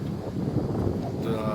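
Strong wind buffets the microphone at Merak port in stormy, overcast weather, a loud, continuous low rumble with gusty swells and a shift in character near the end; no words are spoken.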